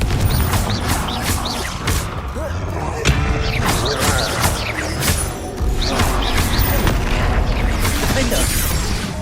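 Confringo blasting spells explode again and again during fast combat in the video game Hogwarts Legacy: loud, close, crashing booms in a dense, busy battle mix with a voice heard at times.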